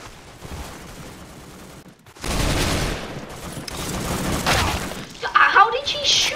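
Rapid bursts of gunfire and shattering impacts from a Roblox gun game, a loud dense volley starting partway through over steady game noise, with sharp cracks near the end.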